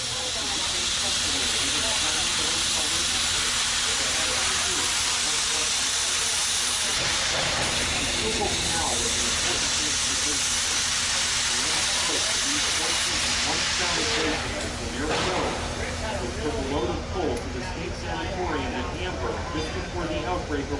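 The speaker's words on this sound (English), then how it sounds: "there's a little bit of wheel slip from 425" Steam locomotive 425 slips its wheels, releasing a loud, sustained roar of hissing steam with a rapid rhythmic churn underneath that thins out toward the end, faint voices mixed in.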